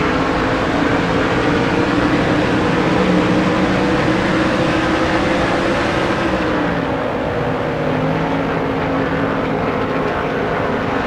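Race cars roar around the track in the NASCAR Thunder 2003 video game, a loud, steady engine drone that holds for the whole stretch and shifts slightly in pitch partway through, with no talk.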